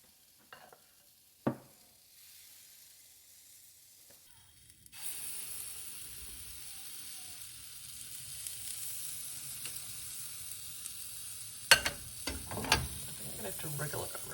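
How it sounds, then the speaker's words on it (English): Pancake batter for teddy bear pancakes hits a buttered frying pan and begins a steady, moderate sizzle that carries on alone after a few quiet clicks, with a couple of sharp utensil taps near the end. "I'm using this small ladle just to ladle in some of the pancake batter"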